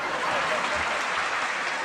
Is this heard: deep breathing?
no